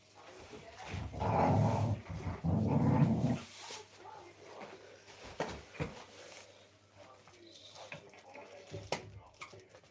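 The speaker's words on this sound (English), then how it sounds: "You've got the dogs growling in the background, playing away." Dogs growl and grumble while playing nearby, in loud rough bursts at first that settle into quieter, scattered growls and yips.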